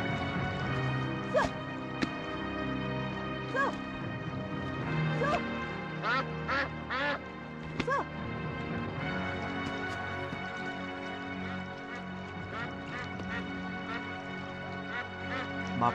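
A bird calls repeatedly in a short series of quacking cries over a steady bed of music, the bright calls spaced irregularly and standing out clearly throughout the scene.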